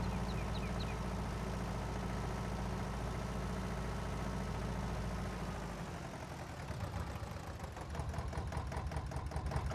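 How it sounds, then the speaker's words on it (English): A farm vehicle engine idles steadily in Farming Simulator 22, a continuous low mechanical drone with a rhythmic knocking texture, shifting slightly in tone partway through before carrying on without voices. "I do love the engine sound of this, especially when it's idling."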